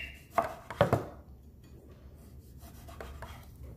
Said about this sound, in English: So we want to then dice the tomatoes. So we'll go ahead and get these diced.